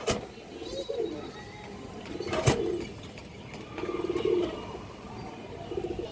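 Pigeons at a pigeon farm coo repeatedly in low, rolling phrases at intervals, close by and fairly quiet, with little other noise.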